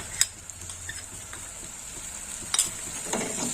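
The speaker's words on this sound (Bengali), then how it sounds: "মশলাটা একটু ভাজা হোক," Spice paste for a stalk curry fries in a pan with a steady close sizzle, broken by a few sharp scraping knocks as it is stirred.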